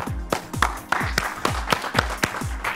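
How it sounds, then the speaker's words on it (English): A small workout class claps at a fairly steady rhythm, about ten sharp, close hand claps spread over a few seconds with no talking. "Let's clap it up."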